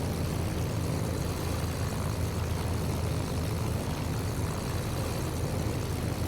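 A Messerschmitt ME-108 Typhoon light airplane's piston engine drones steadily in flight, a loud, even propeller roar that fills the whole clip with no voices.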